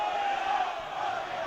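Fans in the packed central stand of the Pala Barsacchi arena cheer steadily at a Serie A1 roller hockey match between Viareggio and Forte dei Marmi, a dense, constant roar of voices from start to finish.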